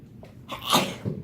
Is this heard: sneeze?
yes